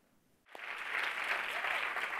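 After a quiet pause, sudden loud clapping erupts from an audience at a spiritual discourse on the Atmasiddhi Shastra and holds steady and dense to the end.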